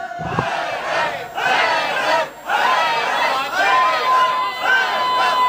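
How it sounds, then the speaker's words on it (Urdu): A large crowd at a Shia majlis gathering chants "Haidar Haidar" together, loud and close, in rhythmic surging waves with a brief dip between phrases. "پیچھے والے مل کے بولو حیدر حیدر"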